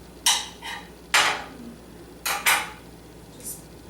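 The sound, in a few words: popping a hard-boiled egg yolk out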